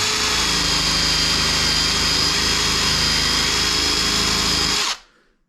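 A power drill fitted with a paint strip disc whines steadily at high speed with a harsh abrasive grinding on car bodywork, loud and close, running for about five seconds before cutting off.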